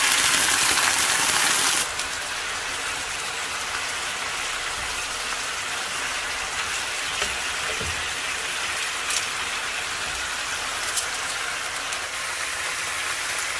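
Beef broth poured into a hot pan: a loud broad hiss and sizzle that jumps at the start, then settles into a steady bubbling roar with faint pops, continuous and close.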